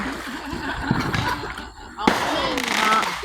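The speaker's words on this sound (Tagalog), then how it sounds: "Ang ganda ng fireworks." Fireworks bursting over a holiday celebration near a crowded swimming pool in Houston, Texas, with booms and crackles rising above continuous crowd noise and people talking nearby, and a sharp loud burst midway.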